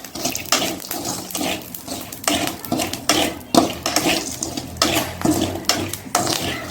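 Chickpeas roast in salt in a pan, giving a busy, rattling scrape as a spoon keeps stirring, with irregular clatters and gritty rustles close by and no talking.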